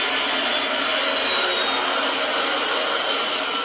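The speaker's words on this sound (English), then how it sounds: "It's an airplane." Airplane engine roar, a dense, constant whooshing rumble holding at steady loudness for several seconds, fairly close and with no voices over it.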